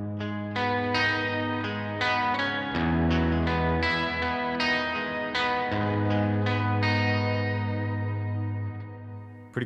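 Electric guitar run through an octave pedal that adds low and high octaves, washed in big reverb; a series of plucked notes and chords ring out with long shimmering sustain, alone and clear.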